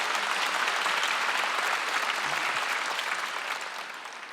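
A church congregation at a Wednesday worship service breaks into applause, a loud, even burst of many hands clapping that holds steady and then begins tapering off near the end.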